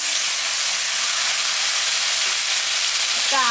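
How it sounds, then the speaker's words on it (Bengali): Snake gourd dropped into a pan of fried onions sets off a loud, steady sizzle and hiss that fills the whole moment, close and without a break. "পেঁয়াজটা ভাজা ভাজা হয়ে গেছে। এখন আমি চিচিঙ্গাটা দিয়ে দেবো।"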